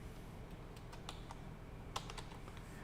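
Quick bursts of keystrokes on a computer keyboard entering a Linux network command in a lab environment, soft clicks in small clusters with a sharper tap near the end, faint and close against a quiet background.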